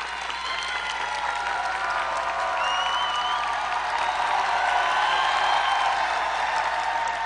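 An audience at a large Amway gathering applauds steadily, a broad, even wash of clapping from many hands that swells slightly toward the end, with some crowd murmur underneath.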